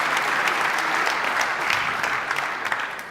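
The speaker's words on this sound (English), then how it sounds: "give yourselves a round of applause" A conference audience breaks into full, dense applause before a final plenary session, with many hands clapping steadily and loudly for several seconds and a slight tapering toward the end.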